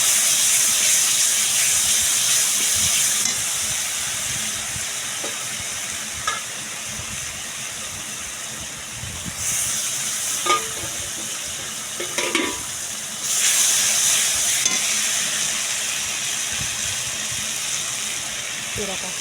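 Ground spice paste with turmeric frying in a pan for a pointed gourd dish, a loud continuous hissing sizzle that swells and fades, with occasional stirring clinks and a voice speaking.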